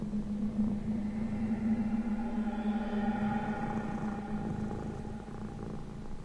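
A cat purring in the Japanese horror video game Teke Teke, a close, loud, steady rumbling purr with a low rhythmic pulse that continues unbroken throughout.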